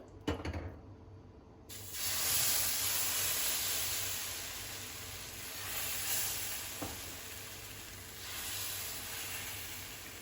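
Ragi dosa batter hits a hot pan and sizzles, a loud steady hiss that swells and eases in waves after a few soft taps at the start.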